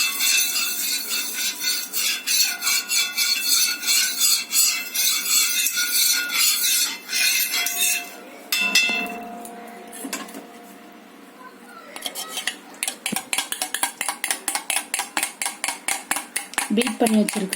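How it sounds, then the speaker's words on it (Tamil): Eggs seasoned with pepper being beaten in a bowl for a butter bread omelette, a fast run of scraping, clinking strokes against the bowl that speed into a steady rhythmic whisking near the end. "பீட் பண்ணி வச்சிருக்கிற நல்லா எக்கை நல்லா பீட் பண்ணிக்கோங்க"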